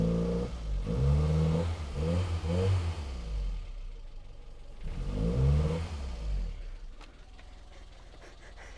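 Classic Mini engine, newly repaired with the air cleaner refitted, idling and revving in two rising surges separated by a quieter idle, close and fairly loud.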